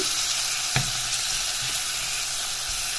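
Tomato with turmeric and spices cooks in a pan for a fish curry, a steady near sizzle with a few soft scraping stirs.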